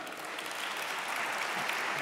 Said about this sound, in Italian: L'applauso al cervello.